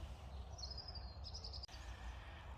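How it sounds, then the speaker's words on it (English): Birds singing in a spring woodland, thin high chirps and a brief trilling phrase carrying faintly over a steady low background hum. "The birds are singing, all of those nature sounds."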